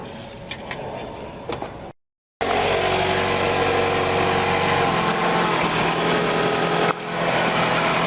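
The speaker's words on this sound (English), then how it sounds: "let's start the engine up" A Mazda 6 engine idling just after an oil and filter change, a steady broadband hum and rumble running continuously after a brief gap, close and fairly loud with no talk.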